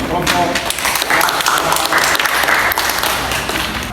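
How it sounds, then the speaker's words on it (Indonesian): A classroom fills with steady, loud clapping for a student group, sustained for several seconds, with a voice audible through it. "Beri aplaus dulu untuk"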